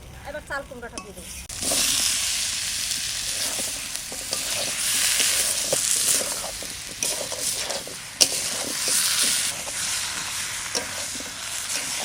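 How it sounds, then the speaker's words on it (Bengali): Duck curry with Assamese hill pumpkin is stir-fried in a pan: after a brief quieter opening, a loud steady sizzle runs on with frequent scraping stirs and one sharp clank. "কুমড়ো দিয়েও ভালো করে কষিয়ে নিলাম"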